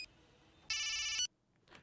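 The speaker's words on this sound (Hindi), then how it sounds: "अब तुलसी को माल की डिलीवरी के लिए फोन किया जाए" A telephone rings with a single bright electronic trill lasting about half a second, close and loud in a quiet indoor setting, followed by a faint click.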